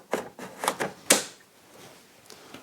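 Batteries snapping into a Festool CSC SYS 50 cordless table saw: a handful of sharp plastic clicks and knocks close by, with one crisp, louder latch click near the middle, then quiet handling.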